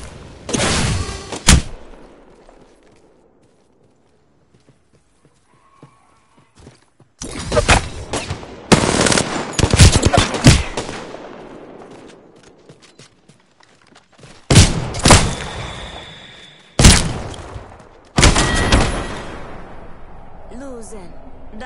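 Gunfire in the video game Apex arrives in loud, separate bursts of rapid shots broken by quiet gaps, with a player's voice talking in between.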